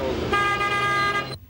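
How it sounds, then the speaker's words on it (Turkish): A car horn sounds one loud, sustained honk, close by and steady for about a second before it cuts off sharply. "Kardeşim kornaya basar mısın?"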